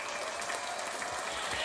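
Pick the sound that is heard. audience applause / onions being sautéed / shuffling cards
audience applause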